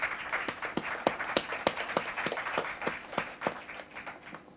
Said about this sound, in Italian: si meritato un applauso